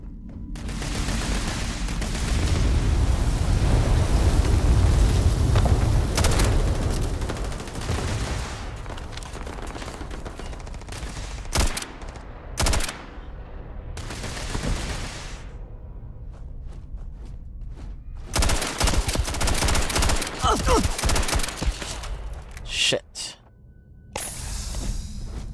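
Sustained automatic gunfire in the video game Starfield, heavy and dense early on, then thinning into scattered loud bursts and single shots with brief quiet gaps, close and forceful, with a few gasps mixed in.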